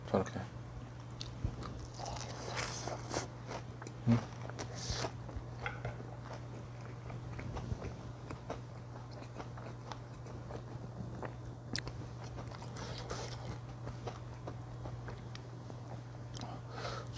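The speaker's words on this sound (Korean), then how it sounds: "어니언 소스에 한번 찍어 먹게요." Crunchy biting and chewing of thin-battered fried chicken dipped in onion sauce, close-up with repeated crisp crunches and soft mouth sounds, no talking.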